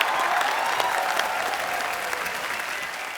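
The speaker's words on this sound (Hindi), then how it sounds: "तो जोरदार तालियों से स्वागत कीजिए मीत ब्रदर्स का।" Studio audience on a Hindi TV comedy show, The Kapil Sharma Show, breaks into loud, sustained applause that stays dense and even throughout, with no talking over it.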